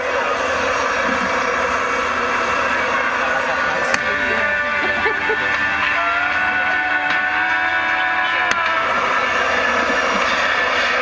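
Aircraft flying low at an RNZAF 75th anniversary airshow at Ohakea, New Zealand: a loud, constant engine roar with a steady tonal hum throughout, a couple of faint clicks, no distinct talk.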